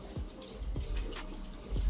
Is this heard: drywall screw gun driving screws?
no